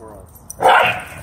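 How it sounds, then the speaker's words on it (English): A puppy lets out a loud, short burst of barking near the middle, following quieter background talk and noise at close range. "Who's barking? Oh, that's puppy."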